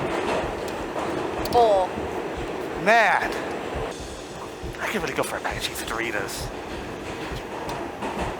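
A staged train sound effect from a theatre production of The Curious Incident of the Dog in the Night-Time rumbles and rattles steadily through the countryside, running beneath someone talking.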